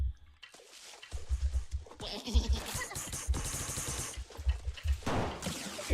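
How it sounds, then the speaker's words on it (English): Players in the ExoForge multiplayer game make goat-like bleats, short rhythmic bursts mixed with rapid gunfire and clatter, fairly close and busy. "Guys sound like goats."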